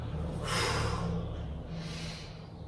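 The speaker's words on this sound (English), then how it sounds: "I'm breathing quite heavily, I'm feeling quite dry." Heavy, audible breathing close up during a low-impact chair exercise routine, a long rushing exhale swelling then easing, followed by another breath, with a low hum underneath.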